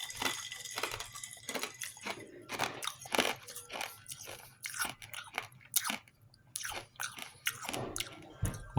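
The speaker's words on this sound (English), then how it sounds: "Lifesavers is fresh, hard, crunchy, just like come out of the factory" A hard Lifesavers candy is crunched and chewed close to the mic in repeated crisp cracks and grinding bites at an irregular rhythm, with no talking.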